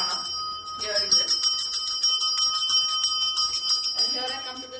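A small hand bell is rung continuously during a smudging ritual to cleanse a home, giving a bright, rapid, shimmering ring that carries on without pause while someone talks over it.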